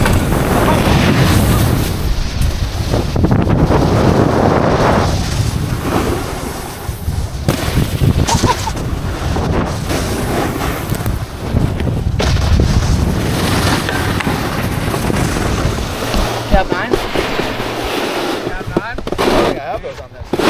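Strong wind buffets the microphone outdoors on a snowboarding trip, a continuous loud roaring rumble that persists throughout with fluctuating gusts.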